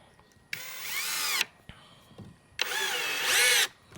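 A Masaru cordless impact driver drives black screws into hardwood in two loud bursts of rapid hammering whir, about a second each, with a short quiet gap between them.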